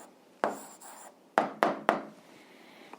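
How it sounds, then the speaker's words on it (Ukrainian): Answer being written by hand, likely chalk or pen strokes on a board or paper: a few sharp taps and short scratchy strokes, close and distinct, separated by brief quiet gaps with no talking. "А зараз записуємо відповідь, пишемо відповідь."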